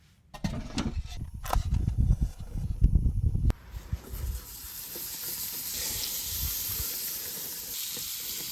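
Abalone sizzling in a pan at a lakeside, beginning with clattering and handling noises, then settling into a steady close hiss of frying.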